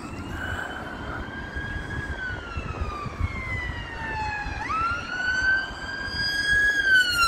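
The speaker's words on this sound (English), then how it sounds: "Can you hear the sirens?" An ambulance siren wails as it passes along a street near Blackpool's North Pier, a steady rising and falling tone heard at moderate distance over traffic and outdoor background noise.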